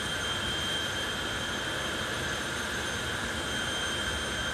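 Called the Volcano, a jet-powered show vehicle at an August fire-and-thunder event winds up toward speed, a loud, steady roar with a whining high tone held evenly throughout, heard without any voices.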